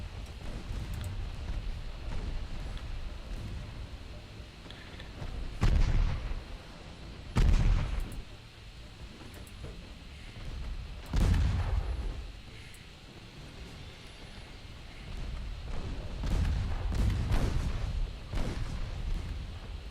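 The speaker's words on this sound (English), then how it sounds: "Oh, we hit the cruiser with the torpedo." Naval gunfire and torpedo hits in the warship game Ultimate Admiral Dreadnoughts, with heavy booming blasts recurring every few seconds over a continuous rumbling battle ambience.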